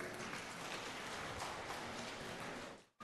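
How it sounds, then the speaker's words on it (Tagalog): Studio audience clapping loudly together at a homily gathering, a dense steady wash of applause that holds evenly before cutting off abruptly near the end. "Sino na sa inyo ang 60 years old at retired? Pumalakpak ng malakas."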